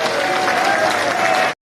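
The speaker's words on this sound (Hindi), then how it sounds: "एक बार खड़े होकर मामा जी के लिए केवल ताली बजा दीजिए" A standing crowd at a political rally claps together for an honored guest, a loud, dense, continuous roar of applause that holds steady and then cuts off abruptly.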